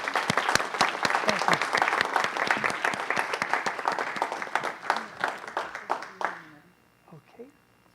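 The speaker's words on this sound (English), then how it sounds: "everybody, please give him a round of applause" Applause at a city council meeting, sharp distinct claps from a modest group in the room, steady for several seconds before thinning out and stopping, followed by brief talk.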